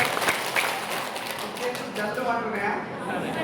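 A gathered audience claps their hands in brisk, scattered rhythm at a motivational meeting, mixing with a voice talking over them and fading toward the end.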